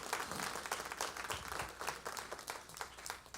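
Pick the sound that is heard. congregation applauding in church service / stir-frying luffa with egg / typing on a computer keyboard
congregation applauding in church service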